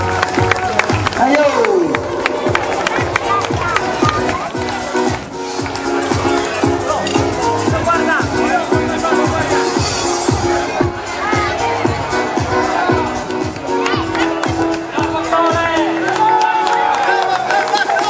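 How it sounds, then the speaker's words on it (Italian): Studio audience at an Italian Sky television show breaks into sustained applause and cheering with whoops, a steady crowd roar running throughout, with music and a presenter's voice mixed underneath. "Vogliamo fare un applauso a Salvatore?"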